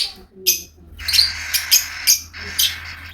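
A hand-fed cockatiel chick begs for food with a series of harsh, raspy rhythmic squawks, close and fairly loud, about six bursts over a few seconds.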